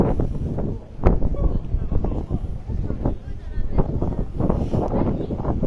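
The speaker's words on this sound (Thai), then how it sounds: "ลมแรงมากนะครับ ลมแรงมาก" Strong wind gusts outside a football stadium in Japan before a Japan vs Thailand match, making a loud, continuous rumbling buffet on the microphone with irregular surges.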